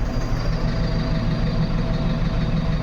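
Heavy traffic on a crowded village road fills the air with a dense, constant rumble of trucks and other vehicles, loud and close, their engines droning without a break and with no voices.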